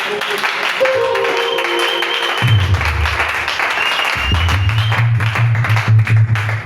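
Church congregation applauding a pastor, sustained loud clapping and cheering throughout, with music playing underneath and some voices mixed in.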